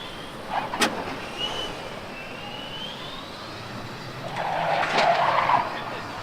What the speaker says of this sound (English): the driver unfortunately loses the car on the entry into the horseshoe, does a little bit of a 180